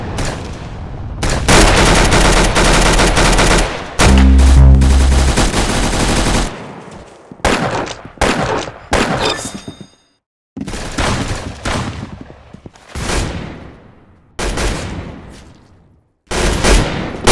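Video-game gunfire from Roblox Arsenal crackles in loud, rapid bursts and automatic volleys, separated by short silent gaps.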